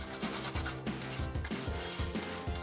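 A brush scrubbing a wet circuit board from a Super Famicom Jr console after it is sprayed with cleaner, giving steady rhythmic rubbing strokes roughly every half second, close and fairly loud with no talking.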